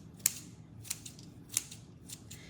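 Scissors snip through paper in four or five crisp, sharp cuts spaced roughly half a second apart, close and clear against a quiet room.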